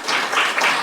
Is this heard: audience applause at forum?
yes